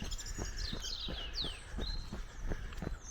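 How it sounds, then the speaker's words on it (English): Birdsong in Scottish woodland carries over the steady rhythmic footfalls and breathing of a runner, with several chirps and whistled phrases. "Just absolutely loving all this bird song."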